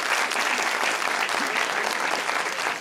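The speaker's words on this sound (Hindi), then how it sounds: "तालियां होनी चाहिए भाई।" Audience applause at a televised political talk show, a steady, dense clapping from a crowd that holds at an even loudness for its whole length with no voices over it.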